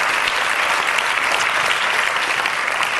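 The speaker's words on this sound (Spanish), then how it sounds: "No aplaudan" Studio audience applause on a Spanish television talk show fills the space with steady, dense clapping that holds at an even level throughout, with no voices over it.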